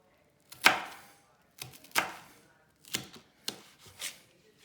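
A whole onion being chopped on a board for chili, six sharp knife strikes in an uneven rhythm, close and clear, with no talking.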